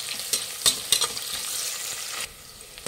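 Onions and fennel seeds frying in a pan are stirred, a steady close sizzle broken by a few sharp scraping strokes of the spoon, with no one talking.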